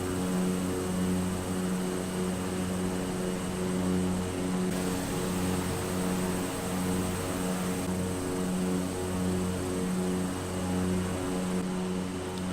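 Simulated propeller airplane in flight in Microsoft Flight Simulator 2020, bush flying over Papua New Guinea: a steady, loud engine drone with a pulsing buzzy hum and hiss, unbroken throughout, no speech.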